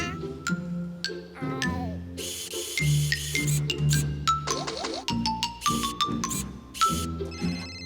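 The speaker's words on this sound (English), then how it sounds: "Oh, it's my phone." A cartoon phone rings with a bright electronic jingle of repeating chiming tones over background music, the ringtone cycling several times.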